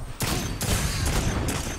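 Found Verdict shotgun firing in the video game Destiny 2 during PvP: four loud, booming blasts about half a second apart, alone without talk.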